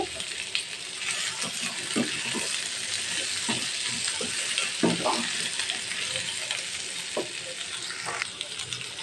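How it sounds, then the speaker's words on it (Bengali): Plantain and potato sizzle steadily in a hot pan, with occasional clinks and scrapes of a utensil stirring through it. "একটু ভালো করে আমি একটু ভাজবো"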